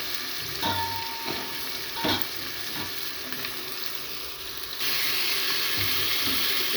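Mixed vegetables, including potato, eggplant and peas, fry in a pan with a steady sizzle and several soft stirring knocks; partway through, a hiss like running water swells and stays loud, with no talk.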